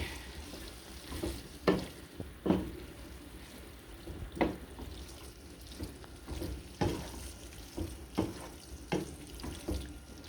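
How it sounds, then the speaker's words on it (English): Cheeseburger casserole stirred in a pan, spoon scraping and knocking at irregular intervals over a soft steady sizzle, close and moderately loud. "get that all stirred together"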